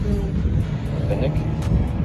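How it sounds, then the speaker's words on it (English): Nissan GTR driving past at a car meet, an engine rumble with rising revs and pops under people talking and cheering nearby, brief and close. "Whoa, that GTR, and I didn't even see it."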